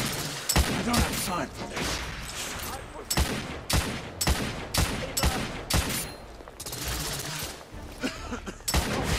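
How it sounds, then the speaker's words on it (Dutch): An enemy fires a freeze gun in The Order 1886, a run of sharp repeated blasts and thumping bursts at uneven intervals over a noisy combat backdrop. "Dat lijkt er verdomd veel op een soort freeze gun."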